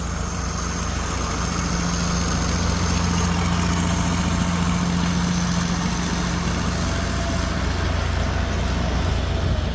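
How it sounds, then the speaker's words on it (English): Allis-Chalmers 190 XT turbo diesel tractor idling nearby, a steady low, loud engine drone with a faint hum and no voices. "right, let's get the tractor around."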